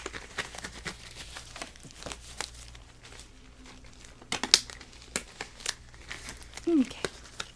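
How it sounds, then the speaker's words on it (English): Gloves being pulled on and a blood type test kit opened, with close, soft crinkling of plastic and packaging in scattered bursts, a brief tearing sound and a person speaking gently over it. "I'm going to put on my gloves and then open the kit."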